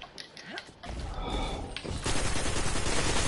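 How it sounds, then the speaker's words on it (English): Bursts of rapid game gunfire from a shooter match, dense crackling volleys that thicken and grow louder toward the end, with no talk over them. "Shooting at the guy. Literally shooting the guy"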